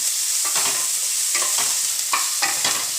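Onions frying and being stirred in a pan on a gas stove at high flame, with a steady close sizzle broken by several scraping stir strokes; no talking.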